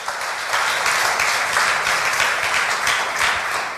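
A church congregation breaks into loud, sustained applause, dense overlapping claps filling the room for several seconds, close and even throughout with no voice over it.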